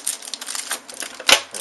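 Quick crisp snipping and crinkling of a sports card pack's stiff plastic wrapping cut with scissors, a few short cuts followed by a sharper rustle near the end, close by.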